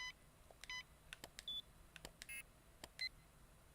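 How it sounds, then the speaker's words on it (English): Beeping interface sound effects in the video game LittleBigPlanet 3, a scatter of short, faint electronic blips and tones in irregular rhythm over quiet background. "It's like a beeping sound effect, so it's probably an UI."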